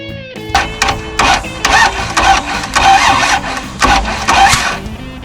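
A stripped junkyard Toyota 2F straight-six from an FJ60 Land Cruiser is cranked by its starter through a jumper wire, giving a loud, steady, rhythmic whirring churn with regular pulses that runs close and unbroken throughout.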